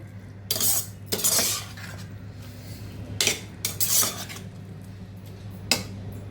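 A spoon stirs and lightly mashes cooked lentils and chayote in a pot for a South Indian dal kuzhambu, giving several scraping, clinking bursts against the metal over a steady low background hum.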